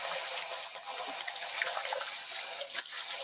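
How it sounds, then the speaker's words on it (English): Tap water runs steadily into a kitchen sink as hands are rinsed, a continuous close hiss with small splashy fluctuations and no talking. "I'm just gonna rinse my hands real quick."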